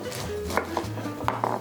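A knife cuts the tough skin off a pineapple, making a few crisp chopping thuds against a cutting board over a low hum.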